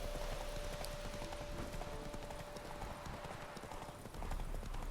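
Roach, the horse in The Witcher 3: Wild Hunt, gallops in a fast, steady drumming of hooves that runs loud and close throughout, over a constant game background hum.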